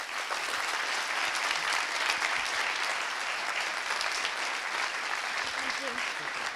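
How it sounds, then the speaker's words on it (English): Sustained audience applause after a tech talk, a steady wash of many hands clapping at even loudness throughout. "A round of applause"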